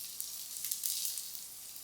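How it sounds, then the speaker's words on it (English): Courgette fritters frying gently in a pan over medium-low heat, giving a steady, close hiss of sizzling oil with small crackles throughout. "I want them sizzling like this"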